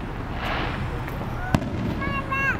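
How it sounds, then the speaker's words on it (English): Fourth of July fireworks going off outdoors, a crackling hiss of bursts with one sharper pop, mid-distance and fairly loud, while people talk nearby. "Nope, there's more fireworks."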